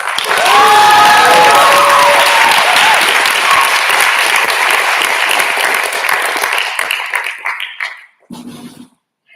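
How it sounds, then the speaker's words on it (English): A warm round of applause greets a comedy performer at an end-of-season showcase, dense continuous clapping from a crowded audience that holds steady for several seconds before thinning out and stopping. "So let's give a warm round of applause for Xander Struggle."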